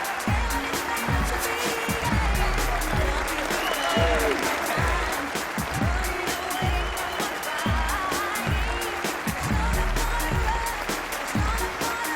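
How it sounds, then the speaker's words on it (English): A large crowd at the Alexandra Palace Masters snooker final roars and applauds for Barry Hawkins, with a steady, loud wash of clapping and cheering and music pulsing beneath it. "let's hear Ali Pali roar for the eagle-eyed Barry Hawkins"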